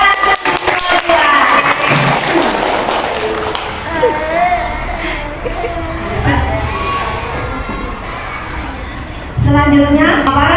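A crowd of teachers and children at a kindergarten community gathering claps and cheers, with shouting children and overlapping voices, loud and lively with bursts of noise.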